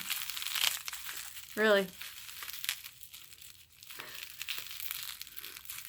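Bubble wrap crinkles in one short, loud burst of crackling while a package is being unwrapped, with a person speaking briefly in the clip.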